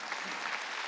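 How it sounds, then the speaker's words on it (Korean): Applause from a church congregation during a Sunday worship service, a brief burst of steady clapping heard at moderate distance. "일어나봐, 박수 한번 쳐줘요."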